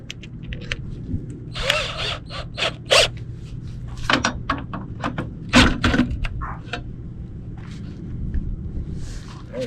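A power drill driving screws into RV stabilizer mounts, heard as short whirring bursts of varying length with gaps between, fairly close and moderately loud.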